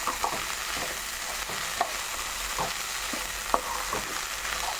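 A pan sizzles steadily as a curry leaf spice powder mixture is stirred and scraped, with occasional clicks of a spoon against the metal and no talking.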